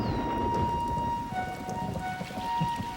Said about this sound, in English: the rainy season descends on Copan